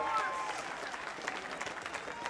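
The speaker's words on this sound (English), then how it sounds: "You guys clap it up for him real quick" Crowd applauding for MMA fighter Jarett Conner at University of MMA Fight Night 5: steady, dense clapping that holds fairly loud throughout, with a few sharper bursts near the end.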